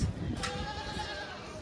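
Goats bleat at a crowded goat market in Gazipur, New Delhi, during Eid; a clear bleat sounds near the start over a dense, steady murmur of the busy market crowd.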